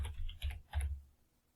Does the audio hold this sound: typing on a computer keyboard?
yes